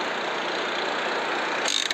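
A car engine in the video game Car Parking hums at a steady, loud drone, with a brief rattling change near the end.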